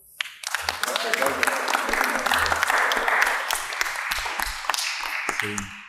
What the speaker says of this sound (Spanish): quiero que le den un fuerte aplauso y bienvenida a Arturo Mora